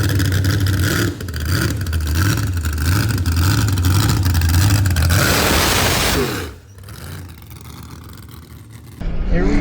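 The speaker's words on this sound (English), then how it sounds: "Here we go for spectator drags in the minivan." Minivan engine at a spectator drag strip event, a loud steady car drone with rising revs for about six seconds, dropping briefly before the engine noise returns; a voice speaks faintly under it.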